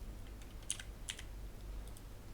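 Typing on a computer keyboard, with a few faint, scattered keystrokes clicking over low background hum in a quiet room.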